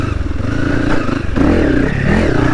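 A Honda CRF300 motorcycle pulls hard in second gear on technical single track, its engine note close and steady, then rising as the rider opens the throttle.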